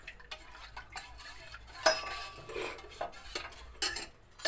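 A spoon stirs thick baby porridge in a pan, giving soft scraping and light clinks of metal against the pan in an irregular rhythm, close by and fairly quiet, with no talking.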